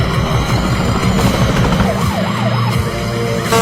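A police siren wails in rising and falling sweeps while a helicopter's rotor thrum and low rumbling drone fill the background, a loud, busy chase scene from the 2013 film Vehicle 19 set in Johannesburg.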